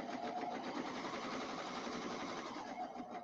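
Brother Airflow serger stitching a short-stitch-length rolled hem on outdoor home-decor fabric, a fast, even mechanical whir running steadily and fairly quietly throughout.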